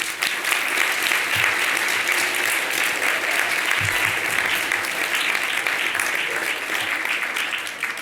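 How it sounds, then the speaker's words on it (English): Loud, sustained applause from a large audience fills an inauguration ceremony hall, a dense and even wall of clapping that holds steady throughout. "So I think you all deserve a round of applause,"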